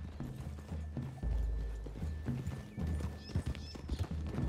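Horse hooves clip-clop at a steady walking pace in the video game Red Dead Redemption 2, close and continuous beneath a dense background of ambient game sound.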